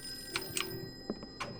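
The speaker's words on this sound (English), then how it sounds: "let's answer the phone" An old telephone rings in the Call of Cthulhu video game, giving several short, faint bell bursts in a steady rhythm over a quiet, humming background.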